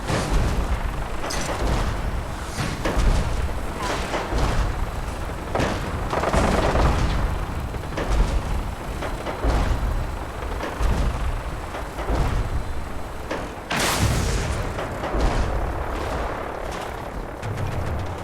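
Heavy, booming shots from a powerful gun in Fallout 4, fired against a behemoth and raiders, landing as repeated loud blasts with echoing tails and irregular gaps across a long firefight.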